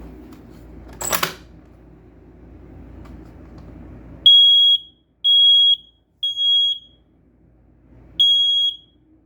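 A smoke detector being tested after a battery replacement lets out four loud, close, shrill electronic beeps in a broken rhythm, following a brief handling clatter and low room noise.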